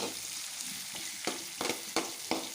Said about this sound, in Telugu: ఆయిల్ వేసి ప్యాన్లో ఫ్రై చేస్తున్నాము